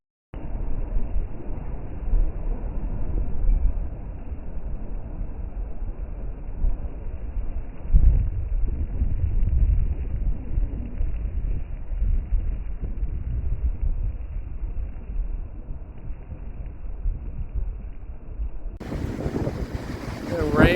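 Steady broadband rushing roar of Scarface Waterfall in Iceland, continuous and full, with gusty wind buffeting the microphone; the noise brightens sharply near the end.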